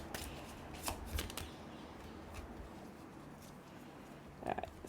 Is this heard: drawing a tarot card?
yes